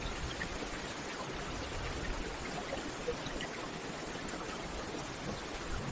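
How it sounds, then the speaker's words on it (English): Gentle rain falling outside, a steady soft broadband patter with no distinct drops standing out, constant and even throughout with no voices. "Imagine yourself in a serene and pleasant environment, with the soothing sound of rain gently falling outside."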